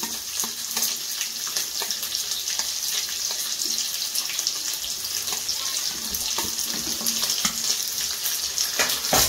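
Vegetables for Bengali shukto going into a pan of hot oil, giving a steady, close sizzle and fry crackle with soft watery hiss and occasional stirring clicks throughout, no voices.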